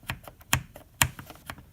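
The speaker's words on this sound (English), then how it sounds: "the worst problem with these switches are the binding. You hit them on the sides." Several keystrokes tap out sharply on a Cherry G81 keyboard with Cherry MY switches that bind when keys are hit on the sides, a few louder clacks standing out among softer presses, close and unaccompanied by speech.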